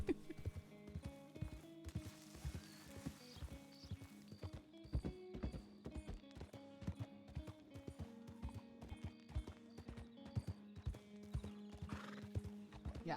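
Horse hooves clip-clop steadily through a RedM western roleplay game, with a neigh or whinny now and then and a faint voice at times over the rhythmic hoofbeats.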